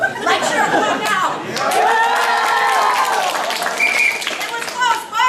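An audience at a comedy improv match between teachers applauds and cheers to cast a vote. Clapping, whoops and loud crowd chatter swell together and hold, with voices mixed throughout.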